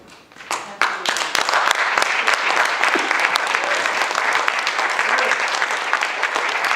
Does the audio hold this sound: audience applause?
yes